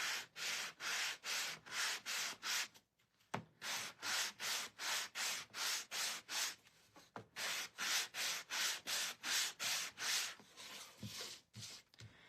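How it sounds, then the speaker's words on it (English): Steady rhythmic sanding strokes of a sanding block on a painted Easter rabbit craft piece, back and forth at an even pace, light and close, with a brief pause partway through. "I'm going to take my sanding block, and I'm just going to go very, very lightly."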